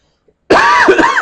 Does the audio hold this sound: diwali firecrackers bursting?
no